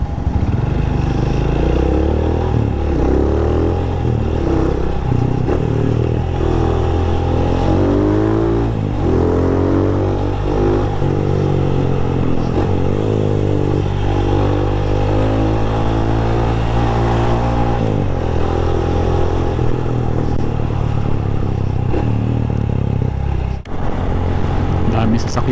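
A motorcycle engine is tested on a ride after carburetor main jet, needle jet and power jet tuning. It revs up and down loud and close throughout, with a voice talking over parts of it.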